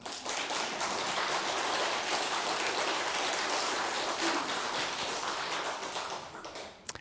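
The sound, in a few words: audience applauding at a Buddhist dharma talk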